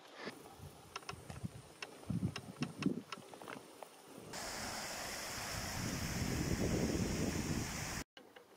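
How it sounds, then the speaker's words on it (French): Light wind blows outdoors on a solo mountain hike, first as faint gusts among handling noises and footsteps, then as a steady, louder rush of wind against the microphone. "il y a un petit vent, vous devez l'entendre"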